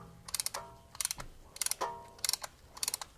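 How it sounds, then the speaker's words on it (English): Hand ratchet tool pushing back the rear brake caliper piston on a Mercedes-Benz W221, quick bursts of crisp clicking in groups of three to five, separated by short pauses and occasional metallic scraping, close and fairly quiet. "ratchet this thing back and forth, it opens up these two blocks that almost look like a brake pad themselves, and it will push the caliper's piston back"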